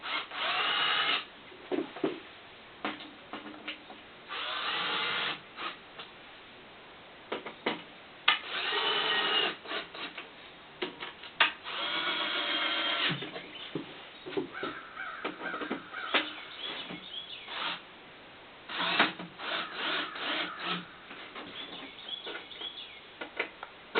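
A power drill drives fasteners to attach the back panel of a wooden solar oven box, heard as repeated short whirring bursts of varying length separated by quiet gaps, close by and with no talking.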